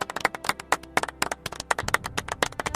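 Hands clapping in quick, uneven bursts of sharp smacks, close and fairly loud, with a rapid irregular rhythm throughout.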